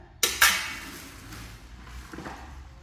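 Metal clattering of a tadka pan being handled and set down in a home kitchen, with two sharp clanks close together followed by fainter scrapes and knocks, with no talk.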